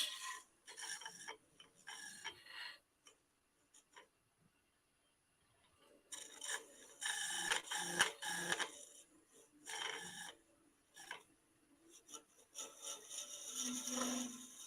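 A bit drilling a quarter inch deeper into wood turning on a lathe, with sawdust building up and the bit grabbing: intermittent scratchy rasping and grinding in uneven bursts with short pauses, fairly quiet and without talk.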